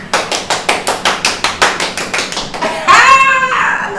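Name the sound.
crowd cheering and clapping sound effect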